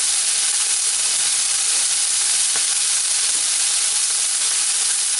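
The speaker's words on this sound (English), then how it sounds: "you want to get a nice crust on these pork chops" Pork chops sear in a hot pan for a browned crust, with drippings catching on the bottom for gravy, giving a steady, dense sizzle and hiss that runs unbroken and close throughout.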